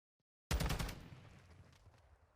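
A burst of rapid gunfire in a Call of Duty match, several sharp cracks in quick succession that open loudly after a short silence, then decay into a fading reverberant tail.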